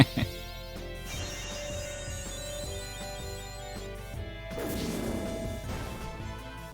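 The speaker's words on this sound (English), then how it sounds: "Something really satisfying about his sword strikes." Sharp metallic sword slashes and heavy impacts in Final Fantasy IX crash in a quick series over a busy game soundtrack, with a whooshing swipe midway.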